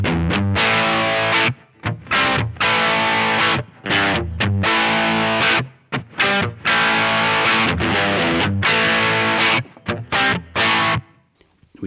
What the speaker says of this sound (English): So this is very much American style amp distortion